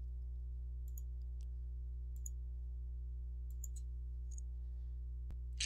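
A computer mouse gives a handful of faint, sharp clicks, scattered and irregular, as items are selected one by one on screen, over a steady low hum with no talking.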